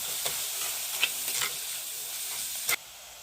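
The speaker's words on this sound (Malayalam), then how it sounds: "ഇതിൻ്റെ കൂടെ തന്നെ നമുക്ക് മഞ്ഞൾപ്പൊടി ഇട്ട് കൊടുക്കാം നന്നായിട്ട് വഴറ്റി കൊടുക്കാം" Turmeric powder and spices sautéing in a pan for a village-style kadala (chickpea) curry, a steady soft sizzle with a few scraping stirs, close and alone.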